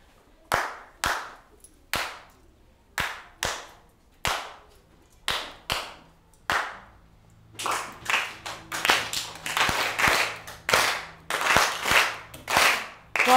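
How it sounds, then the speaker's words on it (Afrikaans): A teacher claps out a rhythmic pattern of sharp hand claps, single claps spaced with pauses at first, then a denser run of quicker claps, close and clear with no talking. "Luister na my klap en dan volg julle dieselfde patroon."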